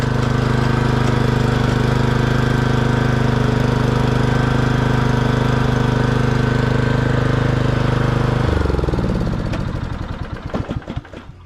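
Lawn mower engine running steadily and loud with the blades engaged, a constant droning hum that drops off near the end as the engine slows and sputters to a stop.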